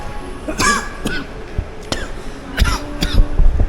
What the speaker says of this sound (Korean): 갑자기 찬바람확 들어오니까 기침이 막나와